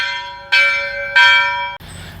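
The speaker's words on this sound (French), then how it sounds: "18h30, les cloches m'encouragent." Church bells ring loudly and nearby at 6:30 pm in Santiago de Compostela, three resonant strikes with long sustained tones overlapping, followed by a shift to a different, noisier sound.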